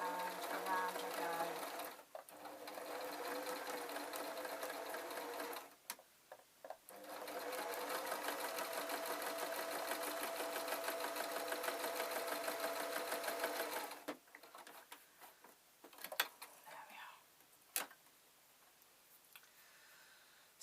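Sewing machine stitching embroidery onto a dog-themed Christmas stocking: steady, close mechanical whirring in two long runs with brief pauses, then softer intermittent clicks and handling noises as the run winds down.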